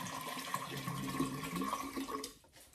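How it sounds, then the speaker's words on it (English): Distilled water pours into a clean jar in a steady, close, splashy stream that runs for about two seconds, then stops abruptly. "I'm going to pour some of this distilled water in a clean jar of water"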